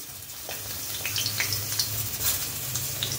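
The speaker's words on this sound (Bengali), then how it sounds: "বাকিগুলো ওকেই ভেজে ভেজে দিই" Homemade marinated fish fries in a pan over low gas, a steady close sizzle with small crackling pops throughout.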